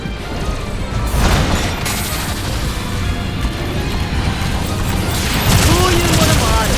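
Explosion of a destroyed enemy mobile suit in a Gundam video game, with a loud, dense booming rumble running through most of the stretch and flaring again near the end over ongoing game noise.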